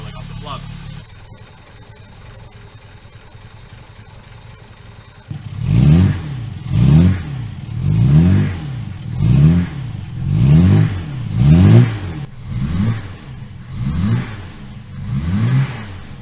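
An old Jaguar car engine on choke revs up and down in a regular rhythm, about nine rising and falling surges, loud and close, after a few seconds of quiet idle hum.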